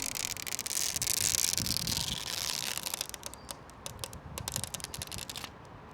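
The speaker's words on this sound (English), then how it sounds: "Let's peel the plastic cover." Protective plastic film being peeled off a large polished mirrored PVD outer weight from an Alice-layout keyboard, making a loud continuous crackling hiss that breaks into quick close snaps and ticks as the sheet comes free.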